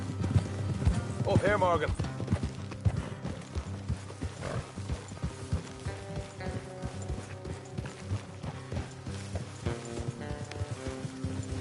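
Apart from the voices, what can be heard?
horses hooves clip-clopping in Red Dead Redemption 2 video game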